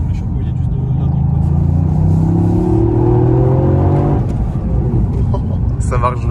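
A Toyota GR Yaris with a turbocharged engine accelerates, its engine and exhaust rising in a loud, steady rumbling drone for several seconds before easing off, heard from inside the car.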